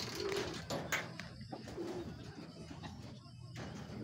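Racing pigeons coo softly in a loft during a pigeon race, with low, faint repeated calls and a few higher chirps over a steady background murmur.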